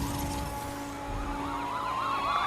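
Police car sirens in The Crew 2 racing game wail in overlapping rising and falling sweeps, loud and continuous over a steady engine drone.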